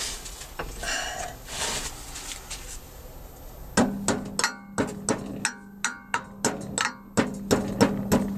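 Small hammer knocking down a part while working on a Mk3 Ford Cortina Estate, about a dozen sharp close taps in an irregular rhythm following quieter handling noise.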